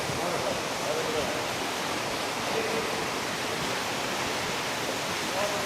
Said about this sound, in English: The water's flowing through there. It's falling out.